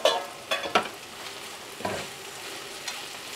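Okra is stirred into masala in a pan with the flame off: a few scraping spoon strokes over a gentle, fading sizzle, close and fairly clear.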